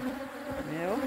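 Honey bees in a hive buzz steadily at close range, a loud droning hum with shifting pitch, heard alone for about a second.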